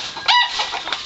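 Backyard chickens clucking in a short, close burst of throaty fowl calls, with no talking over them.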